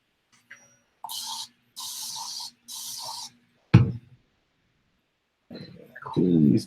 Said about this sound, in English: I've got my spray bottle of isopropyl alcohol